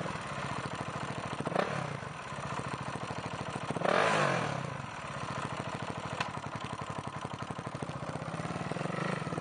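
A used 2007 KTM 690 Supermoto street motorcycle with 32,000 miles runs close up, its single-cylinder engine thumping in a steady rapid idle with a couple of brief throttle blips rising and falling, and no talking.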